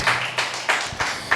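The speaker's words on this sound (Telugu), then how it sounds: "గట్టిగా చప్పట్లు కొట్టి దేవుని నామాన్ని మహిమపరచు" Church congregation clapping loudly in worship, a run of rhythmic, evenly spaced claps close up, several hands together in a steady beat with no voices over them.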